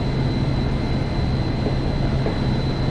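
A Hudson-Bergen Light Rail train at Tonnelle Avenue station, a loud steady rumble with a low motor hum and a constant high-pitched electrical whine, with no voices.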